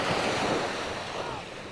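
Ocean surf washes steadily along a seaside shore lined with fishermen's houses, a broad continuous roar of breaking waves mixed with wind buffeting the microphone, with no pause across the short stretch.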